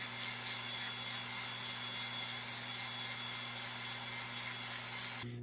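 A Foredom rotary tool polishes a rock with a 1200 grit Nova point, giving a steady high whine with a constant hum beneath, even and close for about five seconds before cutting off abruptly.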